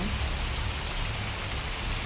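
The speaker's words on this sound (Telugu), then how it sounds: "చంపుతుంది వాన అయితే మాత్రం" Dense, constant late-night downpour hissing loudly and evenly throughout, with no voices or pauses.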